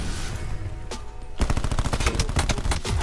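Rapid gunfire from Call of Duty Black Ops 4 gameplay: after a quieter stretch, a dense burst of repeated sharp shots rings out loud and close, continuing in a fast, steady rhythm to the end.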